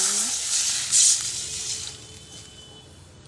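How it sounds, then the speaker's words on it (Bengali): A small splash of water hits a hot wok, giving a brief, bright sizzling hiss near the start that fades into a quiet, steady steam hiss. "কড়াতে জল দিলাম সামান্য।"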